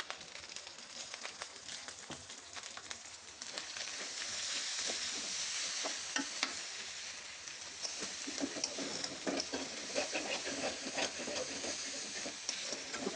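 Onions sizzle in a pan alongside dried boal fish, a hissing crackle that swells louder as they hit the hot oil and keeps spitting steadily with scattered pops.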